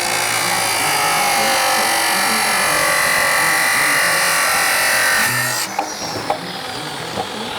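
A forge-welded steel billet has its end cut off with a loud, continuous high-pitched grinding whine that runs steadily for about five seconds and then stops abruptly, followed by a few clanks and faint shop noise.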